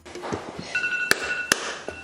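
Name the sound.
phone alarm ringing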